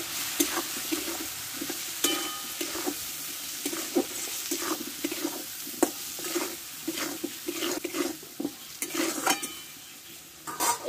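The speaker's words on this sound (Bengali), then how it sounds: "সবগুলো একসঙ্গে কষে নেব।" Turmeric, chilli powder, cumin and coriander powder being stirred and fried together in a pan for a soybean and chana dal dish, a steady sizzle broken by repeated scraping strokes of a spatula, close and continuous.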